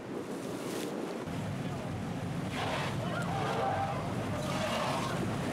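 Strong Mediterranean waves slap and wash around a rocking boat on the crossing to a rocky islet off the Provence coast, with steady wind roar and engine rumble throughout.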